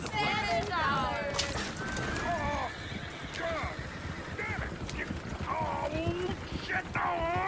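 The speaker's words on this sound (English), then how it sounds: "Shit, the horses! Damn horses!" Horses in the video game Red Dead Redemption 2, with busy hoof clatter and repeated whinnies and squeals mixed together, close and loud, with voices talking over them.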